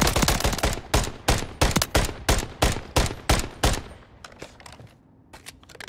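Rapid bursts of automatic gunfire from Modern Warfare 3 ranked play, a dozen loud sharp shots in steady rhythm before thinning into a few scattered, quieter reports.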